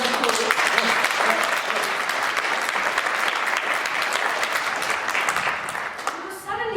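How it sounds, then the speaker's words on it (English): Applause from a crowd at a regional tourism launch in Vaalwater: thick, continuous clapping that holds steady and then thins out toward the end. "So if I can please have a big round of applause."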